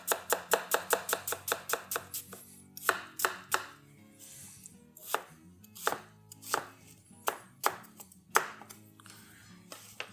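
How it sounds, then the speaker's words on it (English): A knife dices an onion on a cutting board, giving a quick run of sharp, close chops followed by slower, evenly spaced single cuts against the wood, with no voices. "And again, just cutting, leaving it intact back here in the back half of the onion."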